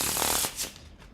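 A deck of playing cards is shuffled close by, a quick papery riffle burst followed by a couple of softer flicks, brief and fairly quiet.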